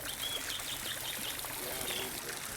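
A water fountain in a Victorian park splashes and trickles in a steady, close wash, with faint chirping birdsong above.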